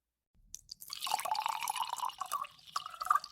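Water trickles and drips from a flask being tipped up to drink, a close, steady liquid pour that begins after a short silence and runs on alone with small splashy peaks.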